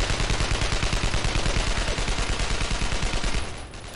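Sustained rapid automatic gunfire from a World War II weapon in the video game Brothers in Arms: Road to Hill 30, a steady dense burst of shots lasting several seconds before cutting off.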